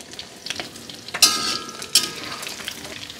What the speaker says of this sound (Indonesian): Ini kita juga goreng ayam teman-teman.